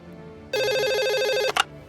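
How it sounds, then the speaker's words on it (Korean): A telephone rings again after a quiet moment, a loud electronic trilling ring that runs for about a second and stops sharply, followed by a brief click. "수화기를 내려놓자마자 곧바로 다시 전화벨이 울렸어."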